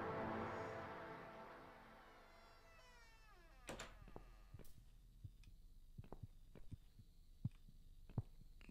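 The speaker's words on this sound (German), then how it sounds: "Dieser Herzschlag ist sehr komisch." A heartbeat in the horror video game The Cat Lady, heard as faint, sparse thumps scattered over several seconds after a quieter, humming stretch, with uneven spacing and no voices.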